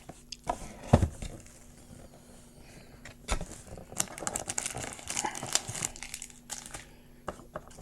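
Plastic packaging of a 2019-20 Prizm Draft Picks mega box crinkling and tearing up close, in irregular bursts of crackling with a few sharper rips and handling knocks, no talk.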